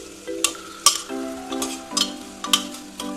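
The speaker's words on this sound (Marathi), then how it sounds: "आता या भाज्या तेलामध्ये छान परतवून घ्यायच्या." Chopped vegetables sautéed in oil for a vegetable pulao: a steady, close sizzle broken by rhythmic stirring strokes and scrapes, with no voices.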